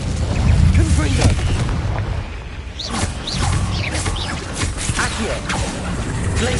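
Confringo explosive spell cast in Hogwarts Legacy, heard as loud rumbling blasts and crashing impacts. A heavy burst comes early, then more bangs follow with lighter crackling debris.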